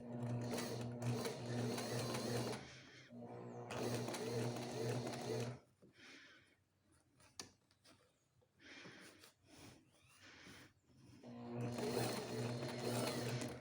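A sewing machine stitches a curved seam in two bursts of rapid, rhythmic whirring, separated by a quieter pause with faint handling sounds, and the steady stitching resumes near the end.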